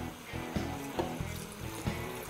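A cup of water is poured into a cooking pot with zucchini, mushrooms and peppers, a quiet close splashing gurgle with a few soft plops, faint and alone.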